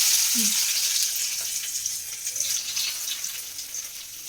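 Mustard seeds and fenugreek sizzle in hot oil with a continuous bright hiss that fades slightly over a few seconds, near and fairly loud, with scattered faint pops.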